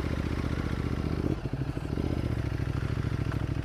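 A Ducati Multistrada 1200 motorcycle being ridden on the road, its engine a steady throbbing drone with a brief dip and recovery midway, continuous and close, with no speech.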